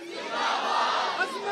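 A large crowd at a religious Milad gathering roars a slogan back in unison, a loud sustained mass of voices swelling and holding for over a second.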